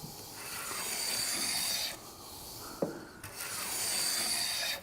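A hand plane shaves extremely fine curls from a wooden surface, making close, raspy hissing strokes: a long pass, a shorter one, then another long pass, with brief pauses and a light knock between them.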